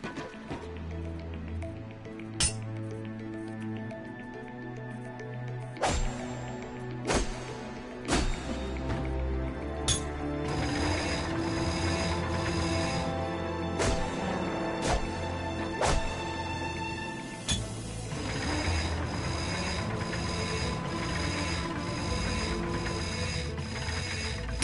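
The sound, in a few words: bolt crank being turned, ratcheting mechanism in a video game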